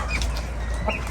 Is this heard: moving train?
no